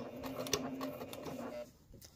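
A sewing machine stitching quilt fabric pressed against a seam guard, a steady close mechanical whir with rapid rhythmic needle ticks that slows and stops near the end.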